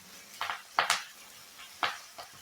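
Green chickpea (harbhara) vegetables tipped into hot tempering in a pan give a few soft thuds and clinks with a brief rustle, quiet and spaced out, no voices.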